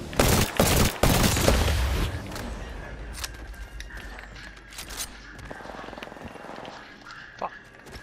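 Gunfire in an online shooter game, a burst of rapid shots and impacts at the start, then scattered sharper reports and mechanical clicks as game sounds thin out, with players talking over it.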